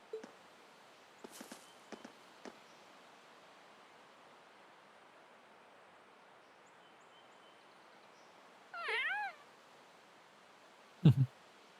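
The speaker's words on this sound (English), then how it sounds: "there's another cat" A cat meows once in a video game, a short rising and falling call partway through, alone over a steady background hiss, with scattered soft clicks before it and a sharp thump just after.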